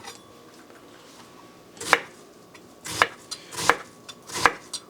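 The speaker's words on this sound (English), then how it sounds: "we're going to start with cutting our onions" A knife chopping onions on a cutting board, four or five crisp close thuds spaced unevenly, with a quiet room hum between the strokes and no speech.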